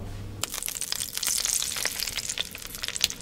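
Egg and spring onion omelette mixture sizzles and crackles in hot oil in a pan, close and lively, starting after a short quiet moment and continuing with dense popping spatters and no voices.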